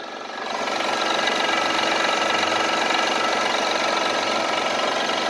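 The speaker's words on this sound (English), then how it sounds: "so now the engine's running" A 2005 Honda Accord 3.0L engine runs steadily at idle after starting, a close, even mechanical hum with a faint knocking texture that rises in the first half second and then holds constant.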